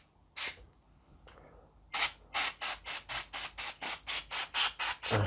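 Compressed-air spray blows dust out of a gaming PC fitted with a 1080 Ti graphics card, starting with a few short blasts and then giving a long run of rapid, evenly spaced bursts up close.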